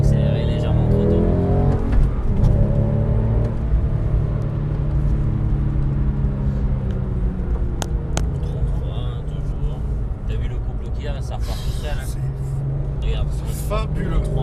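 A Porsche GT3 Club Sport race car on a circuit at Saint Laurent de Mûres loudly drones under braking and then pulls away as it reaccelerates, engine rumble steady throughout while an instructor talks over it.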